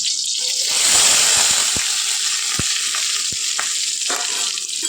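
Chopped coconut hits hot coconut oil in a pan, giving a strong, close, continuous sizzle with a few scraping, knocking strokes as it is stirred.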